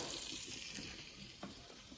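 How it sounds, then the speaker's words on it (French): Garlic and pancetta frying gently in butter and oil, giving a steady, soft broadband sizzle throughout with a few faint stirring clicks and small pops. "l'ail va juste parfumer un peu le beurre et l'huile qui va rendre de la pancetta du gras qui fond. Alors, on laisse cuire ça doucement"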